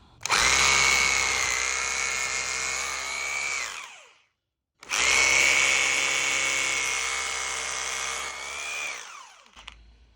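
A power drill whines loudly in two long bursts separated by a short pause, its pitch steady then dropping as it winds down, drilling holes into a patio.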